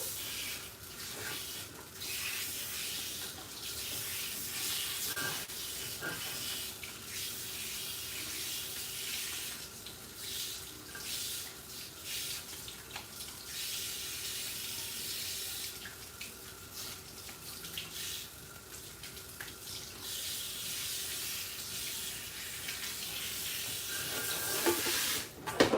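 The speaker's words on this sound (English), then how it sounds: "I'm going to tilt you guys down with me as I rinse this off." Running water pours steadily for about 25 seconds during a wash-day hair rinse, a continuous broadband splashing and hissing like a tap or shower flowing over wet hair, with small surges near the end and no talking.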